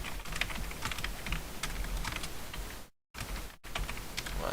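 Steady, quiet typing on a computer keyboard while entering text into a WordPress options page, with rapid clustered keystrokes continuing throughout apart from a brief pause.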